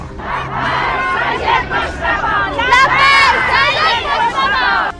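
A large, angry funeral crowd in Mashhad, Iran, roars and chants together at close range, a loud, dense mass of shouting voices that rises in bursts.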